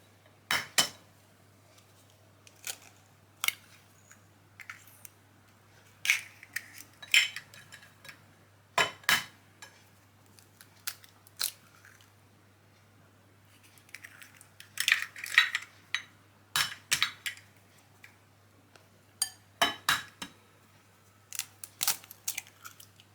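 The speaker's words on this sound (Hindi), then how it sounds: "अब हम अंडे और चीनी को मिक्स कर लेंगे।" Eggs and sugar beaten together in a bowl for besan halwa, with quiet, irregular bursts of a utensil clinking and scraping against the bowl, separated by short pauses.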